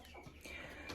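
Hens clucking inside a poultry coop with upper nesting boxes built with a hole for eggs, a steady run of overlapping clucks close by with no speech.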